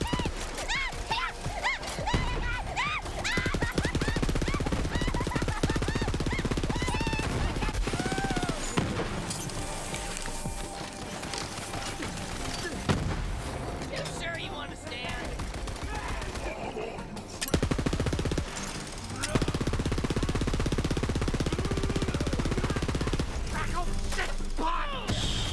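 A gun fires rapidly in Borderlands, dense bursts of shots over a busy, loud game soundscape with crashes and mechanical clatter, while someone talks at times.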